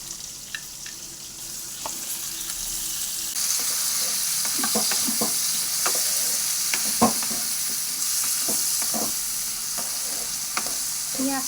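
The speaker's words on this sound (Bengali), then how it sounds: "এখানে তেলের মধ্যে আমি কুচনো পেঁয়াজগুলো দিয়ে দিচ্ছি" Chopped onions hit hot oil already holding bay leaf, cumin, whole cardamom and cinnamon, giving a steady close sizzle with scattered scraping stirs and small pops throughout.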